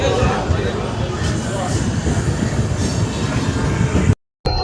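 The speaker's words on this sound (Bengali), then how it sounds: "সাতরাগাছি স্টেশন থেকে আমাদের ট্রেন শুভ উদ্বোধন হয়ে রওনা দিয়ে দিল আনন্দ বিহার মানে দিল্লির উদ্দেশ্যে" The Amrit Bharat Express bound for Anand Vihar, Delhi, pulls out of Santragachi station on its inaugural run, with a loud, steady rumble of rolling wagons and wheel clatter close by that runs throughout, then cuts off abruptly near the end.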